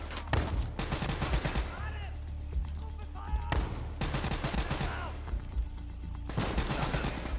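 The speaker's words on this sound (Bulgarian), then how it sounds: "Тая мисия има стрелба" Gunfire in the shooter game Call of Duty: Black Ops III, rapid bursts of automatic weapon fire crackling in repeated volleys with brief lulls, loud and close, with faint speech underneath.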